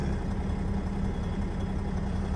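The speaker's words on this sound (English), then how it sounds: "Still idling because I haven't recharged the good old 289." A diesel truck engine idles in a parking lot, a steady, loud low rumble that holds unchanged throughout with no other sounds.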